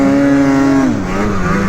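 A motorbike engine revving hard during a small wheelie on wet trail riding, a loud close steady whine that drops in pitch partway through.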